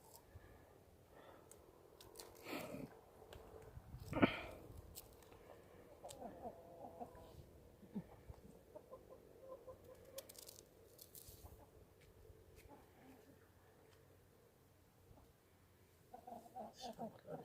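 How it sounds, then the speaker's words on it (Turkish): Chickens cluck softly and intermittently close by, with scattered pecking and rustling noises and a brief sharper sound early on. "Altı tane tavuğumuzun hem bir horozumuz kaldı arkadaşlar."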